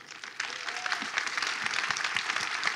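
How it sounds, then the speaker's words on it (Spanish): Audience at a spiritist round-table conference applauding, a fairly soft, even patter of many hands clapping together, sustained throughout with no speech. "por favor un aplauso para nuestro hermano Allan Kardec"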